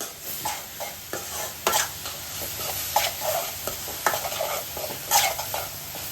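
Onions sauté with a soft, steady sizzle while a spoon scrapes and stirs the pan in irregular strokes, close and moderately quiet.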